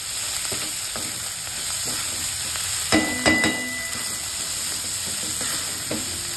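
A vegetable dish with soaked lentils is mixed in a hot pan, a steady sizzle with scattered spoon clinks and a brief cluster of louder scraping knocks midway, heard close and without talk.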